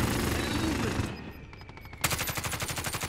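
Automatic gunfire in the Warzone video game crackles in a dense, loud volley, falls quiet briefly, then returns as a rapid, evenly spaced string of close shots.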